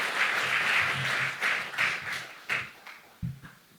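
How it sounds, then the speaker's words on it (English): An audience claps to welcome a speaker at a formal address: a burst of applause with scattered individual claps that thins out and ends in a few isolated claps and a thump, heard alone without talk. "We can do that with a clap to welcome him."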